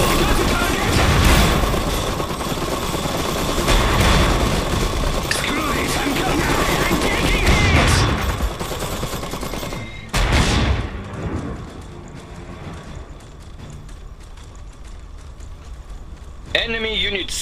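Battle noise in the Iron Harvest strategy game: steady rumbling gunfire and impacts under repeated voiced unit callouts, with a sharp burst near the end.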